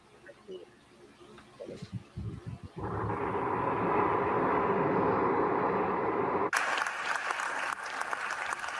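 Applause breaks out after an oath of office, a dense wash of clapping that starts suddenly after a brief voice and continues steadily, jumping louder and brighter partway through.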